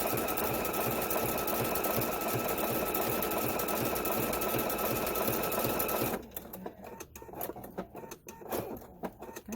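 Sewing machine stitching binding onto a fleece quilt, a steady fast mechanical whirr running loud for about six seconds before stopping, followed by faint clicks and handling sounds.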